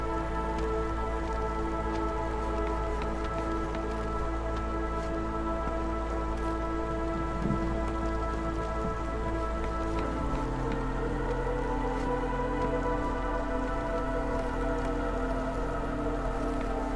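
Steady rain pours throughout in the village-building game Against the Storm, a dense continuous patter of drops with no break, loud and even from start to finish.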